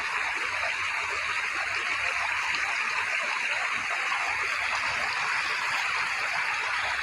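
A river runs in a steady, close, full rush of water over rocks in a shallow stretch where people swim, a continuous broadband wash with no talking.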